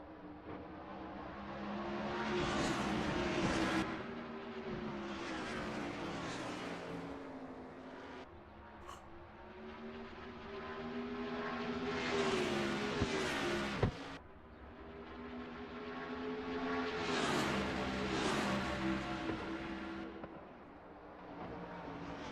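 Race cars leave the pits at Watkins Glen in a racing video game, their engines rising and falling in pitch over several passes. The sound is moderately loud and steady.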